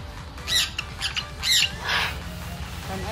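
Birds in Australia's largest aviary squawking loudly and close by, with four harsh calls in quick succession over a low background rumble.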